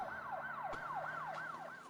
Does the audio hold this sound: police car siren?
yes